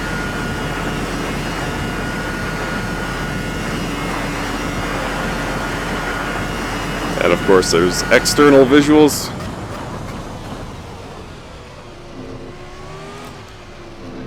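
A Formula RSS 2000 V10 race car engine in Assetto Corsa screams through a quick run of rising, shifting revs, a brief loud howl standing out above a steady drone while someone talks.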